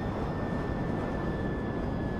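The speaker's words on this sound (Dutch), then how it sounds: "Oh, kijk dat vliegtuig gaan." Airplane in flight in Grand Theft Auto 5, trailing black smoke: a steady, broad engine roar with a faint high whine, continuous and fairly loud throughout with no talk.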